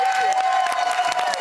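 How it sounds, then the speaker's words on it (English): Studio audience applause with cheering on a Big Brother UK spin-off show, a steady wash of clapping and crowd noise with a faint tone running underneath, brief and even in loudness. "give him a round of applause"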